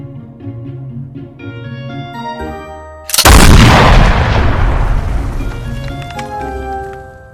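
A cannon fires once with a sudden loud boom that cuts through light music and slowly fades away over several seconds.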